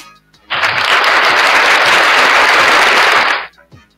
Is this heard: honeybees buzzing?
no